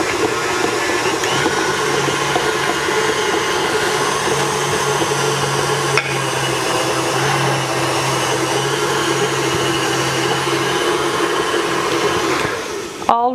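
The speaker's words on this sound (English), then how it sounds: "if you are using a stand mixer, stop it in the middle of the process" A stand mixer creaming butter, running loud and steady with a constant whirring motor drone that stops abruptly near the end.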